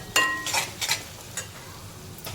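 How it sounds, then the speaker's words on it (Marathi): Onion sautéing in oil for a cashew-seed curry, a quiet sizzle broken by a few distinct spatula stirs and scrapes against the pan. "कांदा शिजून द्यायचा आहे तेलामध्ये व्यवस्थित"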